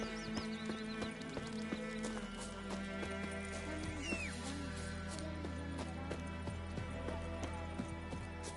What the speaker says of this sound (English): Come on. Run, Roach.